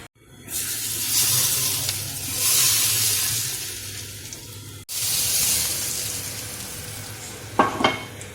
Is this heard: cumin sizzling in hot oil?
yes